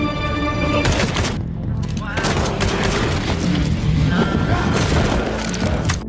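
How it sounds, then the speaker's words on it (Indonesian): Intense film gunfight with loud bursts of gunfire and heavy impacts, dense and continuous throughout amid chaotic crashes and background effects. "Hingga terjadilah baku tembak dan baku hantam sengit, yang pada akhirnya menewaskan semua target."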